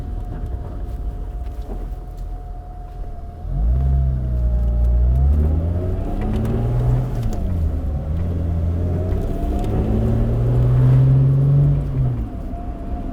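A V6-swapped Mazda Miata making 230 hp idles quietly, then roars into hard acceleration, its engine note rising and dropping across several gear changes in the cabin before settling back down.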